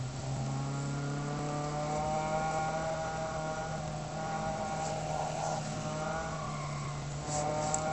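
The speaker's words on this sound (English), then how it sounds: "It sounded like a drift to me." Racing car engine from the Real Racing 3 video game, a steady droning whine with a brief tire-skid squeal of a drift rising midway, continuous and fairly loud with no talking.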